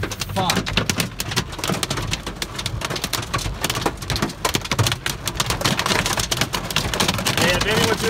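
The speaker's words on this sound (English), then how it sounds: "let them know it's hailing fairly hard up here in Colebrook on the 44" Hail falls hard on Colebrook, Connecticut during a severe summer thunderstorm, a loud, dense, continuous clatter of countless impacts with sharper cracks standing out through the steady roar.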